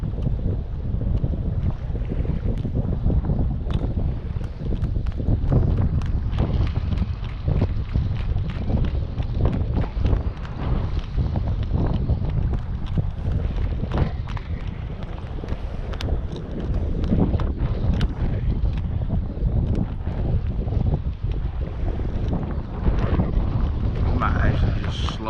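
Strong, rough wind roars on open water around a fishing kayak, a steady heavy buffeting rush with gusty low rumble and microphone wind noise that carries on throughout.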